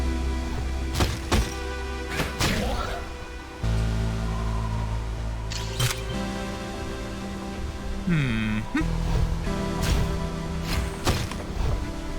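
Combat in Hyper Light Drifter as the player beats up bird enemies: quacking squawks mixed with sharp thwacks, whooshes and chiming game tones over a steady synth drone, repeated hits scattered throughout.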